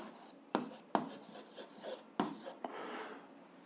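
Pen scratching across paper while an algebra exercise is worked out, with scattered strokes and a few sharper taps, close and fairly quiet.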